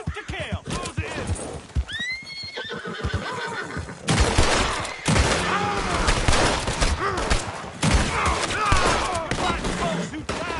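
Rapid gunfire crackles in bursts alongside whinnying, snorting horses and hoof clatter, a chaotic outdoor confrontation with shouting voices and steady background noise throughout.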